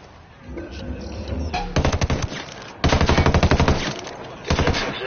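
Bursts of rapid automatic gunfire in the video game Ghost Recon Wildlands, loud and close, in several rattling volleys with short pauses between them.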